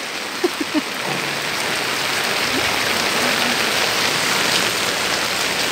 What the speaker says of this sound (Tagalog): Malakas-lakas yung ulan guys.